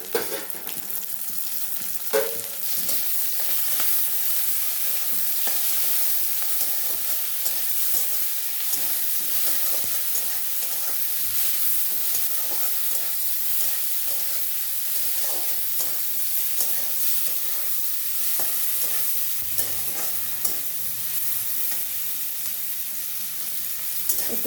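Shrimp seasoned with salt and turmeric frying in a pan with red amaranth leaves over raised gas heat, a steady close sizzle with occasional stirring scrapes throughout.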